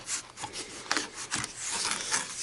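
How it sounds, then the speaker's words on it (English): A Subaru WRX window trim piece is squeezed, pulled out and shaken, making close, steady rubbing and scraping of plastic with a few louder knocks. "Just squeeze it and pull it out and give it a little shake."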